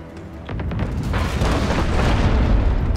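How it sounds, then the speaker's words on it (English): Enemy ship cannons thunder in the age-of-sail game Abandon Ship, a burst of deep booms that runs into a sustained rumbling barrage and grows louder toward the end, with no voices. "Their cannons are really, really deadly."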